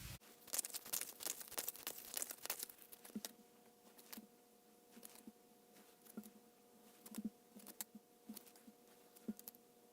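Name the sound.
shuffling tarot cards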